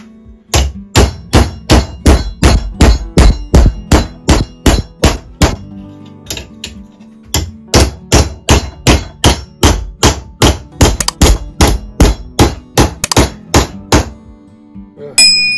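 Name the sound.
hammering an iron bar straight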